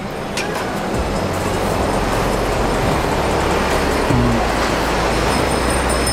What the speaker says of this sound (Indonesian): Nah, ini dia bisnya dengan karoseri Adi Putro Jet Bus 3.